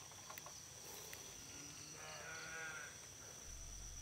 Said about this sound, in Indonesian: Emang sering terdengar suara kambing